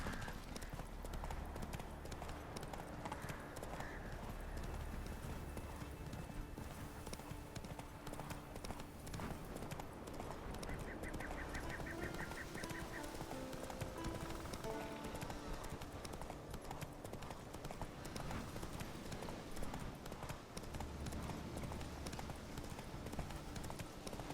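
Roach, the horse in The Witcher 3, gallops with steady rhythmic clip-clop hoofbeats over the whole stretch, close and constant, while faint game sounds and occasional voices sit underneath.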